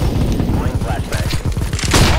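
Flashbang grenade thrown during Counter-Strike: Global Offensive gameplay, heard as a loud, dense, rumbling burst of game noise lasting a couple of seconds, with a voice talking over it.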